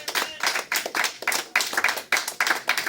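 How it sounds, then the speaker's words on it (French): A church congregation at a Sunday service claps hard for the Lord in a steady rhythm, about three to four loud, close claps per second, with no talking over them. "Acclamez très fort pour le Seigneur."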